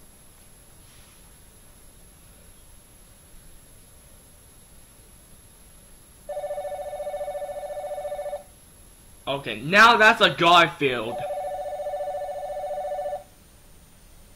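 A telephone rings in a few sustained electronic bursts, loud and near, with a person talking before and between the rings.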